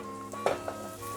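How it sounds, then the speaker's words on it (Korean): Minced garlic sizzling in a frying pan during Korean home cooking, a soft steady frying hiss with a short clatter of utensil against the pan near the middle, quiet and close. "이제 다진 마늘 들어갑니다"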